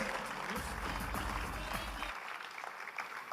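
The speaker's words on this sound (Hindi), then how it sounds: "अपने लिए जोरदार तालियां बजाएं।" An audience at a product event for Health Guard rice bran oil bursts into strong, dense applause that holds for about two seconds, then quickly thins and fades to quieter room sound.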